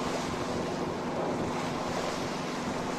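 Heavy seas over 18 feet roll and crash around a sailing yacht off the Baja coast near Cedros Island, with strong wind roaring steadily across the microphone and no break in the wash of surf.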